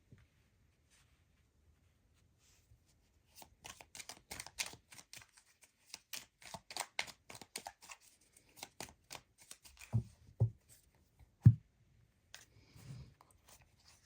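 Tarot cards are shuffled and drawn during a reading: after quiet, soft close riffling and flicking of cards starts, followed by a few louder taps and slaps as cards are laid down.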